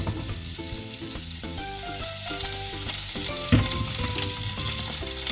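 Paneer cubes fry in hot oil for palak paneer, giving a continuous close sizzle and crackle with a few stirring knocks, set under steady background music with no speech.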